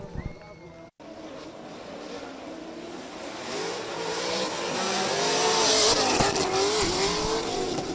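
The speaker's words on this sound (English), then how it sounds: "he's lost in the smoke from the back end of the BMW of the Lithuanians" BMW drift cars battle at an Oman drift championship, engines revving and building to a loud, rising howl with squealing tires, heard from a distance beneath a commentator's voice.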